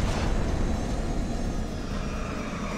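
Airplane engine from the open-world video game Just Cause 2, a loud steady roar with broad rushing noise that holds unbroken and close for the whole stretch, with no talk.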